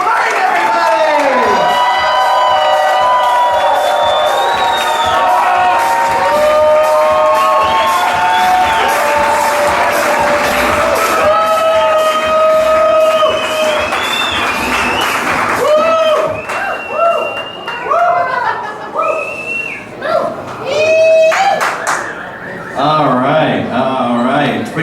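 A comedy club crowd greets comedian Paco Romane with loud cheering, whooping and applause, a long roaring swell of voices and clapping that thins into scattered shouts and claps toward the end.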